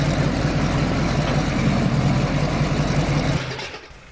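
A tank engine in a video game running with a loud, steady low rumble, then cutting off near the end and fading quickly to quiet.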